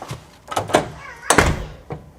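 A Lathams security back door swings shut with a solid thunk and rattle of its metal frame, a few knocks and clunks close by, followed by a louder latching slam.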